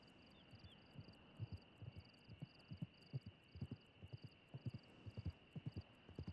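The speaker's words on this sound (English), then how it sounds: "I think I heard a horse" A horse on a hill, its hooves thudding in a soft, irregular rhythm at some distance. A steady high insect-like whine sits above the faint footfalls.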